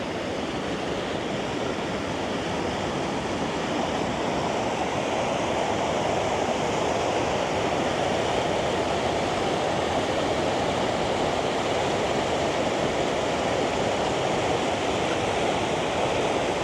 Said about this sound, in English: We're just going to go down and visit this waterfall.